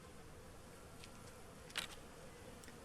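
A faint, steady drone of honey bees buzzing during a hive inspection, with a brief louder buzz as one bee passes close.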